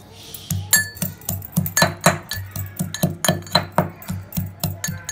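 Garlic crushed in a stone mortar and pestle for a dry coconut chutney: a steady series of sharp pounding knocks, roughly three per second, close and alone.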